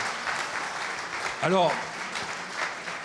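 Applause from the audience at a packaging company's 80th anniversary event continues throughout, with someone briefly speaking over the clapping midway.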